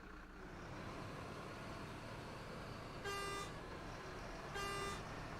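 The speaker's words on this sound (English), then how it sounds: "That looks like unique horn as well." A Mercedes-Benz truck horn in the video game SnowRunner gives two short, bright toots about a second and a half apart over a steady engine drone.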